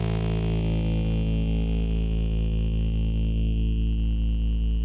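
A synth tone is crushed through the bitcrusher effect of the Caelum Audio Beef plugin, giving a loud, steady, buzzing and distorted drone that holds at constant level for about five seconds with no voice over it.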